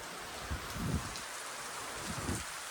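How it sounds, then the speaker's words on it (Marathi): Rain falling outdoors near a parked vehicle during the season's first rainfall, a steady soft hiss with a few low patters and thuds, moderately near and fairly faint, with no talking. "भरपूर असा पाऊस चालू झाला इकडे वरल्यागे पण"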